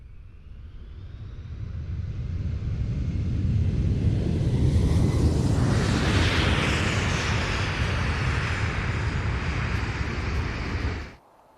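A Boeing E-4B at a British air show roars past, its loud jet rumble swelling to a sustained broadband peak before cutting off abruptly, with no voices.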